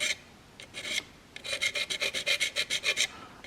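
A flat diamond sharpener rubs across a single bevel broadhead to break off the burr, giving a quick series of close, rhythmic rasping strokes, a few strokes first, then about a dozen evenly paced ones.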